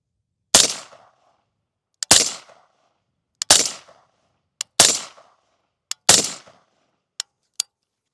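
Suppressed rifle shots from a 14.5-inch BCM with a SureFire SB2 suppressor: five loud, close reports spaced about 1.4 seconds apart, each with a short decaying tail, and sharp clicks of the action between shots.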